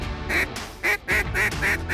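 Ducks working a natural wetland bottom ringed by cattails quack loudly and close in a quick series of about five calls, with no talk over them.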